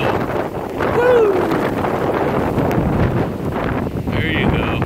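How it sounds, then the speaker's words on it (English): Strong hurricane wind gusting past a tree in Clermont, Florida, a steady roaring rush close to the microphone, swelling slightly at one point, with a brief faint voice over it. "See if we catch us another gust."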